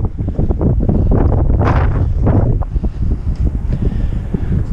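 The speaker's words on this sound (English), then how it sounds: "The wind has really picked up." Strong cold wind buffeting a microphone outdoors, a loud continuous rumbling roar with gusty surges.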